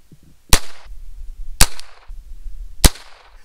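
Three sharp, loud gunshots from a Heritage Rough Rider .22 revolver fired outdoors, spaced about a second apart, each a crisp crack with a short decaying tail and quiet pauses between.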